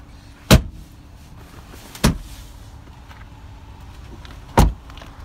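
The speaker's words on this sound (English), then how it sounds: "There is a lever at the side of the seat here. You can simply pull that up. And she will flip up" Third-row seat of a 2019 Dodge Durango GT flipping up by a side lever, heard as three sharp mechanical thunks spaced apart, close and loud against a quiet cabin background.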